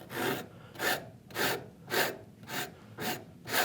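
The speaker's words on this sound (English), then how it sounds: "we're just using the weight of our rasp and just the weight of our hands" A wood rasp is drawn across a wooden router plane kit part under light hand pressure, giving seven evenly spaced, close rasping strokes in a steady back-and-forth rhythm.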